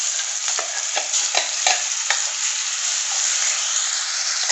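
Crushed shallots and chili frying in coconut oil: a loud, close, steady sizzle with a few sharp stirring scrapes early on, easing into an even hiss.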